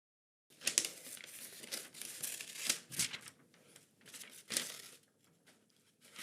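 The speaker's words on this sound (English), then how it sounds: "cutting out a piece from a paper" Paper being cut out and crumpled by hand, with close, loud crinkling and tearing bursts in an irregular rhythm and short pauses between them, and no voices.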